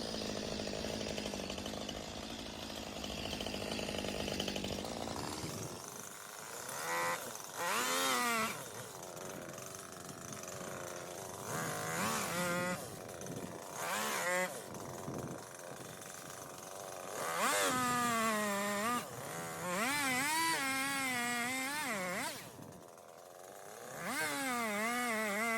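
A chainsaw revs and cuts in repeated bursts while felling a tree, its pitch rising and falling as the engine strains, with short pauses between cuts.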